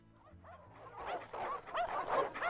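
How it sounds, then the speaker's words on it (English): Hounds growling and whining in the video game Witch on the Holy Night, a run of pitched, rising and falling canine snarls and whimpers that swell louder and closer across the clip, with no talk. "As her footsteps faded, the sound of growls grew louder."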